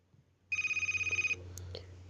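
A phone rings with an incoming call: a loud, rapidly pulsing electronic ringtone starts after a half-second pause, lasts under a second, then cuts off into quiet room noise.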